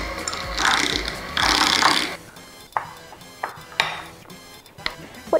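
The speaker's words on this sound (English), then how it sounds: "let me just mix this up, and then I'm going to use the mixer just now" An electric mixer works cinnamon roll dough in a home kitchen, its motor whirring in two short loud bursts, followed by scattered clinks and knocks of bowl and utensils.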